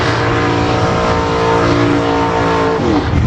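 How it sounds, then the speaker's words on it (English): Rear-engine dragster racing at a drag strip roars loud and close, a sustained high-revving engine scream that holds steady and shifts pitch near the end. "Terry Opstel out of Maple Creek now in the right-hand lane with that rear engine dragster."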